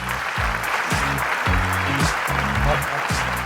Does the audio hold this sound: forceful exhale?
no